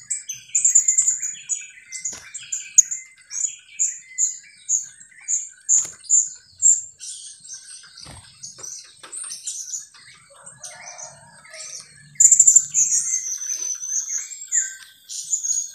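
Serindit birds chirp repeatedly in a rapid, high-pitched series while being moved between cages, with occasional rustling and a brief flurry of louder calls near the end.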